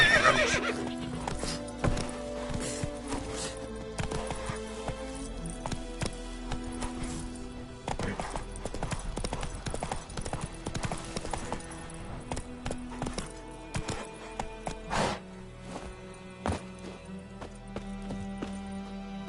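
Roach, the horse in The Witcher 3, gallops with rapid hoofbeats and lets out whinnies and neighs. The clip-clop rhythm is close and loud at first, then becomes more broken and uneven later on.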